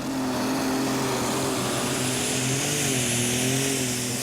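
A pulling tractor with an International multi-stage turbocharged, methanol-injected engine roars steadily at a tractor pulling championship, a loud sustained drone with a slowly wavering pitch and no pauses.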